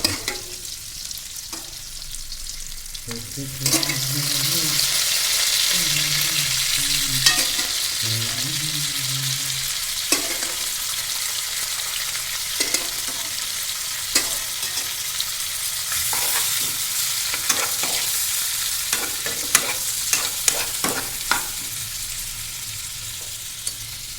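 Pork dry frying in its own fat in a pan: a steady loud sizzle with frequent clacks and scrapes of a spatula stirring the meat, close and without talk.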